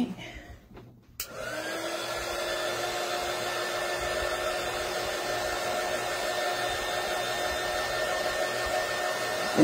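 A hair dryer switches on after a brief rustle and then blows steadily and loudly with a constant whirring hum, drying paste on a canvas sign.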